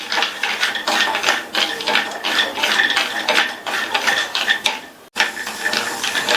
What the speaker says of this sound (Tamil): பாதாம் பருப்பை 2 நிமிஷம் வறுத்துட்டு